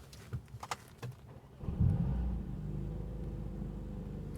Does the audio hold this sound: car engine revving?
yes